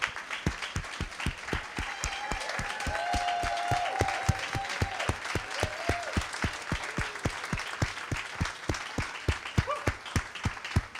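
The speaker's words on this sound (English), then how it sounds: "I invite anyone to applaud for all of our teachers now and in the past" An audience at an awards event applauds its teachers in a long, steady round of clapping, individual claps distinct and rhythmic, with faint voices murmuring underneath.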